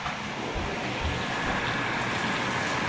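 Running water splashes steadily over hands being rinsed off after cracking an egg in a home kitchen, a continuous broadband hiss close to the mic with no pauses.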